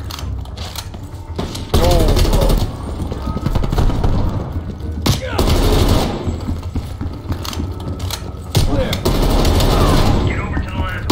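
Automatic gunfire and bursts of shots in Call of Duty Black Ops Cold War, loud and repeated in several volleys across the clip, with a player's voice talking over the shooting.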